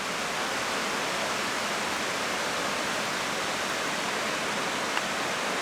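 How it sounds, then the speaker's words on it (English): Steady, full roar of a waterfall's lower falls at Crater Lake National Park, constant rushing water heard up close with no voices. "The lower portion of the falls."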